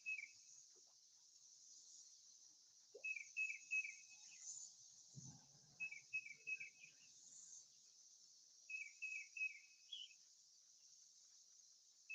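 Summer cicadas by a panfish fishing spot, a faint, steady high buzz running throughout, with short repeated chirping bursts in clusters and an occasional soft knock.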